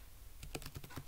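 Quick typing on a computer keyboard, a short run of about eight light clicks close by, alone over a quiet background.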